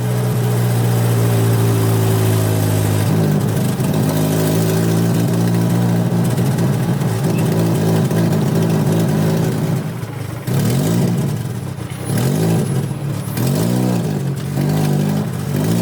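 Honda Civic EF with a swapped K24 engine runs loud and close, holding a steady rough idle and then climbing through several throttle blips and revs before settling again.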